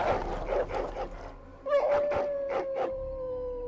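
A dog in Dragon Age: Origins yipping and barking in a series of sharp calls, then breaking into a long, thin, near whining howl that holds steadily over background game noise.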